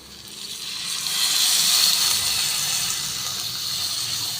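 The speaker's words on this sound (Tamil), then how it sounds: "கொஞ்சம் போது தண்ணி ஊற்றிக்கலாம்" Water pours steadily into a pan of bitter gourd with a hissing splash that swells and then holds, close by.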